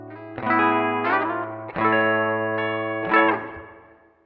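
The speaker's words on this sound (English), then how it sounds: "What you're hearing is my Nash T52 running into the board, running directly into the interface." A Nash T52 electric guitar through a pedalboard, including a Bliss Condor pedal, straight into an audio interface: chords ring out lush with chorus and echo, several strummed chords decaying into a wash of reverb, played alone.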